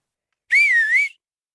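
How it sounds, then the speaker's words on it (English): A single loud human whistle rings out from a ridge edge, held for about half a second with a slight wavering pitch before cutting off cleanly into silence. "let out the loudest whistle I could"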